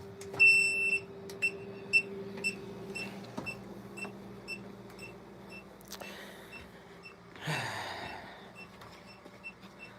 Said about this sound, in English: When it does a fast beep, it's telling you it's about to turn its ass on.